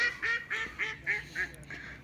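Several ducks quack in a quick series of about seven nasal calls at a quarry pond, fairly faint and alone.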